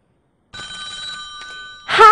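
A telephone bell ringing after a brief silence, one sustained electronic trill heard close and clear, followed at the end by a voice starting to speak.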